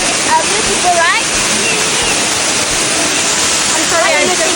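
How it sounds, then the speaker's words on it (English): A waterfall at Kubah National Park pours with a loud, constant broadband roar and rush of water, with a few faint bird chirps above it. "Look at the waterfall, it's beautiful, right?"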